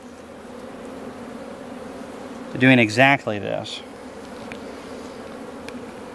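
Honey bees hum steadily around an open hive during a single brood inspection, a continuous close buzz that runs the whole time while someone speaks briefly in the middle.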